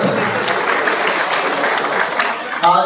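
Sustained applause from an audience honouring CBSE board exam students in Rudrapur, a dense even wash of clapping throughout, with a voice breaking in right at the end.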